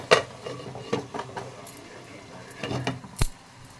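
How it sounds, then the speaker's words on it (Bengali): A metal lid lifted off a cooking pot of aloo rajma masala in a home kitchen, giving a few sharp clanks and rattles with quiet gaps between them. "ঢাকাটা খুলে দেখে নেব।"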